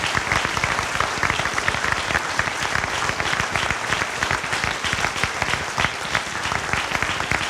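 A large audience applauds a speaker named Mr. Metz at the close of a question session, sustained dense clapping filling the room steadily from start to finish.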